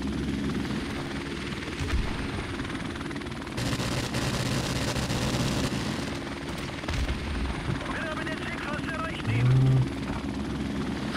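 A helicopter killstreak in Call of Duty: Modern Warfare Remastered on the Backlot map makes a steady rotor drone with bursts of gunfire, while a player talks over it.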